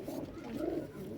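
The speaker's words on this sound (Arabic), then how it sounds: "وهذا الطير السابع المتسابق محمد الحمداني" A racing pigeon coos softly nearby, a low, throaty rolling call rising and falling over about a second.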